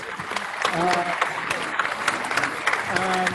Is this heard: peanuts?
no